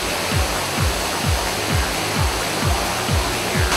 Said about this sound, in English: We are going to swim in a waterfall.